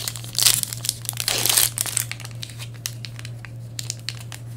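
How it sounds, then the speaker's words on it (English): Fragile Upper Deck Goodwin Champions trading card foil packs crinkle and tear open close up, two loud bursts of crumpling early on, then softer scattered crinkles and ticks. "These packs are very fragile, like just barely touching it, I ripped it right there too."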